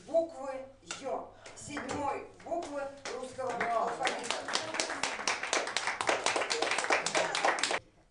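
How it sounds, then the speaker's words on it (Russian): Students at a gymnasium clap for a birthday celebration, the applause starting after some children's voices and building into steady, dense clapping from a nearby group that runs several seconds before stopping abruptly. "Среди гимназистов, аплодирующих имениннице"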